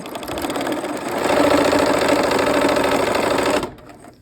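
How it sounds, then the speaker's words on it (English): Sewing machine stitching quilt block pieces in a steady, loud mechanical run that speeds up after a second and holds for about two and a half seconds before stopping abruptly. "All right, let's go sew those."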